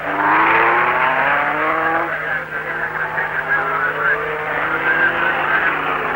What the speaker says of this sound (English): Brabham hurtles down the flying mile close to top speed